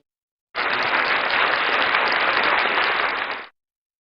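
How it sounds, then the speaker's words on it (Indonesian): A church congregation at a year-end prayer service claps together in a steady, even burst lasting about three seconds, then stops abruptly into silence. "Kasih tepuk tangan dulu dong"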